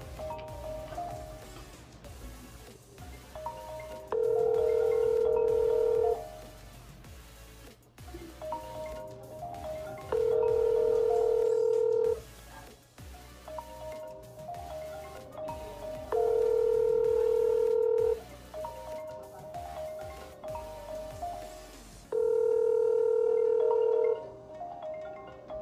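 An iPhone calls its own number, and a tone pulses in four evenly spaced bursts of about two seconds each. Each burst is loud and alone, with quiet gaps between them.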